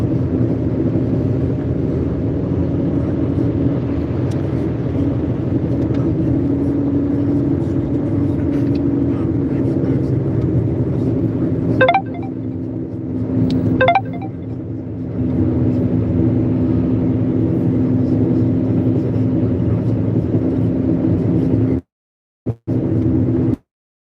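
A car drives along a road toward Mowe bus stop, giving a steady, loud engine and road rumble throughout. Two brief squeaky sounds are heard near the middle, and the sound cuts out briefly near the end.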